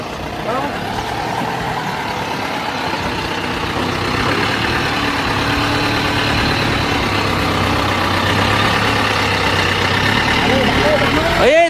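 A tractor engine runs steadily throughout, a loud continuous low rumble with people talking over it.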